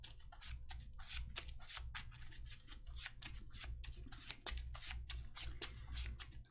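Cards from the Heroes of Tenefyr board game are shuffled by hand close up, a run of crisp riffling and snapping bursts repeating irregularly over a low steady hum, with no talking.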